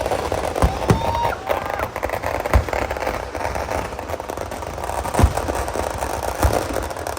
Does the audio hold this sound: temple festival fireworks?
yes